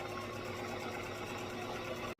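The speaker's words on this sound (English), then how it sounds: "I'm back stitching over the tab so that way it stays in there good." Sewing machine back stitching over a fabric tab on a small card holder or money pouch, a steady quiet mechanical whirr running without pause until it stops abruptly at the end.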